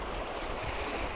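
Ocean waves wash continuously on the shore, with a steady broadband roar and wind, close and without voices.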